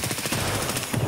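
Heavy-recoil automatic gunfire in Escape from Tarkov, a fast continuous burst of loud, close shots in a tight rapid rhythm.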